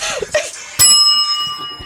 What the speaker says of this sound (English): Hit it again. Those virtual bells.